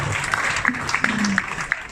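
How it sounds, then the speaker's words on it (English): Audience applause during a wedding best man speech, a short burst of dense clapping lasting about two seconds, with a voice faintly mixed in. "Perfect, let's give him a round of applause."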